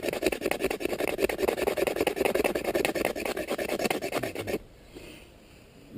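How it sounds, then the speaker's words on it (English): A serrated blade scrapes dry wood into shavings on snow, a fast rasping rub of quick repeated strokes, close and loud, ending abruptly into near silence. "you can get yourself a whole bunch of nice dry shavings real quick with a serrated blade"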